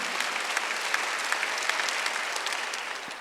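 A church congregation at a Wednesday worship service breaks into applause, a dense, fairly loud patter of many hands with distinct individual claps standing out, sustained throughout.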